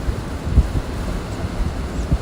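Strong, steady blizzard wind in Nebraska roars across the microphone as a constant broadband rush, with low buffeting gusts thumping now and then.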